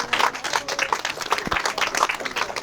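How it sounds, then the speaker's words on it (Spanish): A crowd at a quinceañera Mass in Guadalcázar, San Luis Potosí, applauds the girl, steady close-up clapping from many hands lasting a few seconds. "Aplaudan a la quinceañera."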